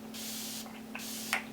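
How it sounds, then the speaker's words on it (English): Makeup setting spray mists from a pump bottle in two short, soft hissing bursts, close and quiet against a steady low electrical hum. "We're gonna go in with the setting spray."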